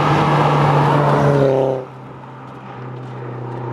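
Seat Leon Mk1 Cupra R with a 1.8 turbo BAM engine, 3.5-inch downpipe and decat exhaust, driving up close and loud with a steady engine drone that suddenly drops off to a quieter idle-like hum.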